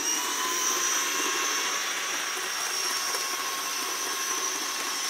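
A Bachmann HO scale model locomotive's DC motor runs at higher speed, giving a thin, steady high-pitched whine and buzz with a faint tonal hum, constant and fairly quiet throughout with no talking.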